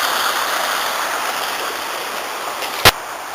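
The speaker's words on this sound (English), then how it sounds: "provides quite a scenic waterfall" Full winter waterfall on the Afon Ysgethin river rushes in a steady, loud broadband roar close by, with a single brief knock near the end.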